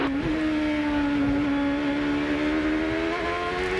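A 2007 Champ Car race car engine at the Edmonton street race, heard from the driver's visor camera: a loud, sustained high-pitched engine drone holding steady with a small rise and dip in pitch, no talk.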